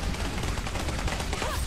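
Enemy gunfire in Clive Barker's Jericho, a dense continuous burst of rapid shots rattling without pause, loud and close.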